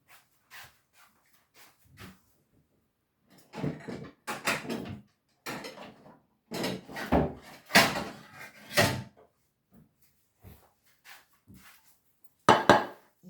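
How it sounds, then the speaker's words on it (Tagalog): Plates and dishes clatter as someone gets a plate in a home kitchen, a scattered run of clinks, knocks and scrapes at close range, some sharp and loud, with quiet gaps between. "Kukuha tayo ng plato para may lalagyan."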